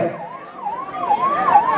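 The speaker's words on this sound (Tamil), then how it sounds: "கார் எடுத்துட்டு ஆம்புலன்ஸ் போறது வழி விடுங்க" An ambulance siren wails in repeated rising and falling sweeps as it moves through a crowd at a village bull event, loud and fairly close over a busy background murmur.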